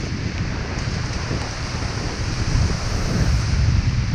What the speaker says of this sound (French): il y a un vent de malade en plus